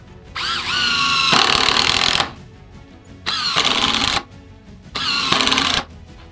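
Cheap Amazon Populo cordless drill whirring in three loud bursts, the first rising in pitch as the motor spins up, separated by brief pauses.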